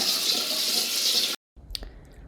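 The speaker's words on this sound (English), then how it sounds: "I'm gonna wash this one out though, or at least rinse it." Running tap water pours steadily as a bowl is rinsed, loud and continuous, then cuts off abruptly, followed by a few faint drips and clinks in a quiet kitchen.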